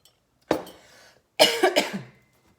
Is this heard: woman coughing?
yes